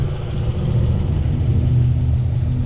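A 1980 Chevrolet Camaro engine idling, a steady deep rumbling purr with an even low throb, close and loud throughout with no voices.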